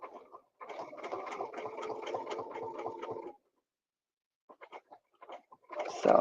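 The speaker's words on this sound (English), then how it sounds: "Can you hear that tick tick? That is a bad needle." Sewing machine running with a bad needle, a fast rapid stitching rattle for about three seconds, then silence, a few isolated ticks and a brief louder burst at the end.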